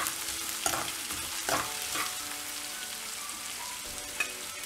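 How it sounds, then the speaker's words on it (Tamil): Onions sauté lightly in a pan for kuli paniyaram, a steady sizzle with several scraping stirs of a spoon punctuating it, close and alone. "வெங்காயம் வந்து ரொம்ப வதங்கணும்னு அவசியம் கிடையாது ஏன்னா நம்ம குழி பணியாரம் கல்லில் ஊற்றும்போது அதுவே கொஞ்சம் வெந்தா மாதிரி ஆகிடும் ஸோ கொஞ்சம் லைட்டாக வதக்கினா போதும்"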